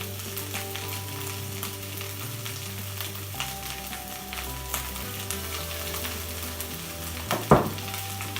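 Stir-fry sauce hits sizzling chicken fried rice in a hot pan, giving a steady close frying hiss with low hum, a few scraping stirs and a sharp louder burst of sizzle near the end.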